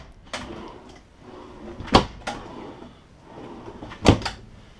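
Full-extension drawers in the kitchen of a 2015 Airstream International Signature 27FB travel trailer being pulled open and pushed shut, giving a few sharp close knocks and slides with short pauses between, heard alone in a quiet interior.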